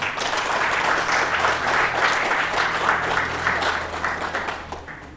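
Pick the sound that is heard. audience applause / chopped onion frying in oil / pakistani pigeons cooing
audience applause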